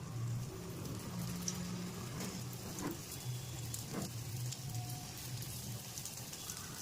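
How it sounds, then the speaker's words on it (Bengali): Bora fritters frying in hot oil in a pan at home, a steady, fairly quiet crackling sizzle with faint spatters running throughout and no talking. "বড়া ওই পাশে ভাজা হচ্ছে, এই পাশে অলরেডি তেল আমার গরম হয়ে গেছে"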